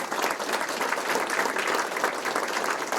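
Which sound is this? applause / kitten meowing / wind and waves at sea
applause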